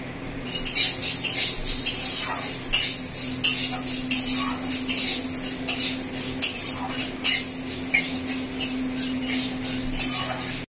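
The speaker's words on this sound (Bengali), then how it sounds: "এবার ডালের মধ্যে দিয়ে দেবো 1 চামচ মতো ঘি দিয়ে ডালটাকে খুব ভালো করে ভেজে নেবো।" Whole urad dal being fried in ghee in a pan and stirred, with a light sizzle under repeated scraping and clinking of the spoon against the metal. A steady low hum runs beneath the stirring.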